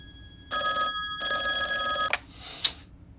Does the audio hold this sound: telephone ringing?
yes